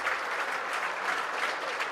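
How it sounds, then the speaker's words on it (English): A round of applause rings around a rugby league ground as an injured player leaves the field, steady dense clapping from a distant crowd throughout. "He's just having a round of applause around the ground as he comes off"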